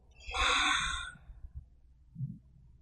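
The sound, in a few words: exhaling breath out through the mouth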